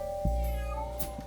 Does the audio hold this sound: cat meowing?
yes